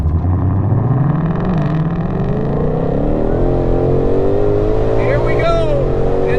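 Hennessey Venom 1000 GT500 launching from a dead stop on a light launch and pulling hard, its loud engine note climbing steadily in pitch as the car accelerates, with a continuous roar throughout.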